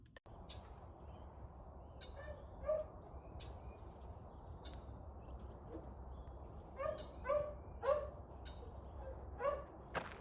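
A dog gives several short yips and barks at moderate distance over a low steady background hum, clustered in a few bursts with gaps between.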